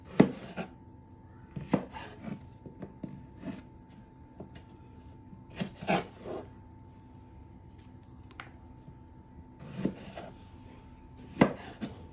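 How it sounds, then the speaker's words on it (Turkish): Knife chopping figs on a cutting board, irregular thuds and taps spaced a second or two apart, with quieter rustling between cuts and no talking. "Onları doğrayacağım şimdi."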